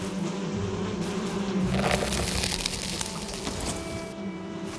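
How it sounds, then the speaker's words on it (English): Bees buzz around a hive in the Valheim game, a steady droning hum with shifting pitch, close and continuous with no talk over it. "Bees."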